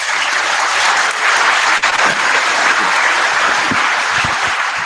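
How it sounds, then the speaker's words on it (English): Steady, loud applause from a conference audience, a dense wash of clapping that holds through the whole stretch with almost no voice. "Applause here."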